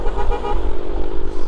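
A vehicle horn blares loud and close in one sustained honk lasting about a second and a half, with a low engine rumble underneath.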